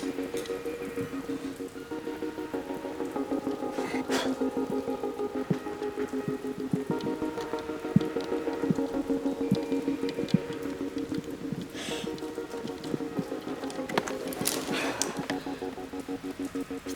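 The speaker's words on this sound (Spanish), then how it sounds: "Está lloviendo." Steady rain falls around an outdoor rock-climbing crag, a continuous soft patter spread evenly through the whole stretch with a few louder drips and splashes, no voices.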